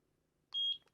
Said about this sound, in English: Press the sync button for 2 seconds until you hear a beep